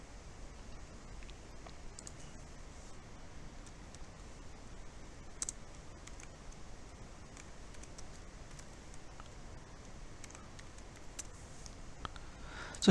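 Faint, sporadic clicks of a computer mouse during setup of a Microsoft SQL Server catalog source in a data governance tool, spaced irregularly over a quiet background hiss with no speech.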